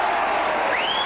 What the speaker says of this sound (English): gets a real cheer from the Eagle supporters